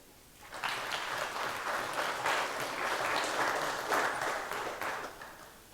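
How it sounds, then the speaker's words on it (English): A crowd applauds steadily for several seconds, a dense wash of clapping that swells and holds before tapering slightly at the end. "So I think this earns, again, an applause."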